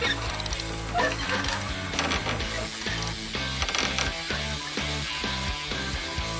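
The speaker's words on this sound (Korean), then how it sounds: "단단히 끈을 조여 나무를 안전하게 고정해 줍니다" Straps are ratcheted tight to secure a load of timber on a truck, with repeated close mechanical clicks and clanks in an uneven rhythm against a busy outdoor background.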